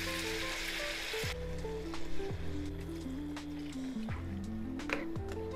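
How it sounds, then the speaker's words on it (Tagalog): Mackerel broth hits a pan of cooking onions, carrots and potatoes for fish curry, a sharp hiss and sizzle at first that settles into soft bubbling with drips, close and without talking. "Ilagay natin yung sabaw ng mackerel."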